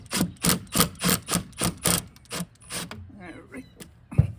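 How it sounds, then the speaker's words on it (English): On a 2007 Chevrolet Silverado headlight, a 5/16 screw is loosened with a hand tool. About eight rhythmic ratcheting rasps sound close and loud, followed by softer fiddling and a final knock. "we'll start by taking a 5/16 screw here, loosening it up."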